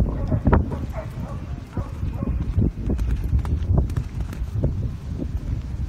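Horse hooves clip-clopping over a show jumping course, a run of irregular thuds and knocks with some muffled impacts, heard fairly close amid ambient noise, with a dog barking briefly in the background.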